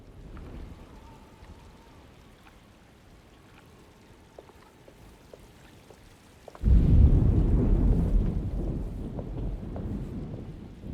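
A thunderstorm breaks out in the 2024 game Alone in the Dark, starting as a quiet windy hush and then turning suddenly into a loud roar of heavy rain and rumbling thunder that lasts to the end.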